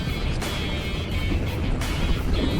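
A motorbike rides along a road at night at moderate speed toward a national highway near Kolhapur, giving a continuous low engine drone and wind rumble without pause.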